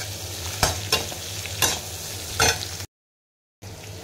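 Capsicum, carrot, peas and onion fry in a pan for bread poha, giving a steady sizzle with several sharp stirring scrapes, then a brief gap of silence before the frying hiss returns.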